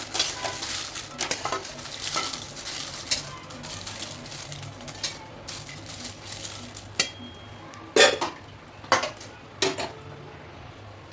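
Small green chillies roasting in a little oil in a pan, stirred with a spatula: continuous sizzling crackle with repeated metallic scrapes and clinks that grow sharper and more spaced toward the end, close, no talking.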